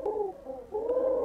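A pigeon in the video game Pigeon Game coos twice in soft, low, rolling calls close by, with no talk over it.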